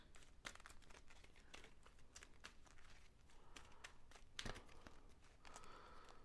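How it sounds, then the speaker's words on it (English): Rapid crackling riffles of cards being shuffled, several quick bursts close by with a few sharper snaps, no talking. "I'm going to shuffle it just to be safe."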